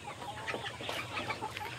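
Laying hens, young pullets, cluck softly in a low, scattered chorus, several birds murmuring at once with a faint background hum.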